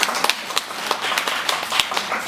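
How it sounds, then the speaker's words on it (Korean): A small audience at a Buddhist college lecture on death studies claps, sparse individual hand claps scattered irregularly over a noisy room background, fairly close and moderately loud. "박수 한번"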